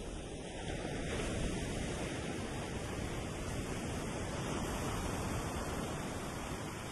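Ocean waves heard as a steady, dense roar of surf mixed with wind buffeting the microphone, constant and fairly loud throughout with no voices.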